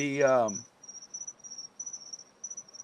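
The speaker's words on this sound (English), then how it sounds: "There's a Doral crickets out there." Crickets chirp outdoors at night in Doral, Florida, with a faint, steady, pulsing trill that starts right after a short burst of speech and keeps going.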